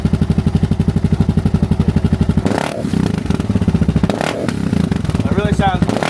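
A DR650 motorcycle with a LeoVince X3 EVO exhaust idles close by with a steady, deep, pulsing exhaust throb, then someone talks over the engine noise.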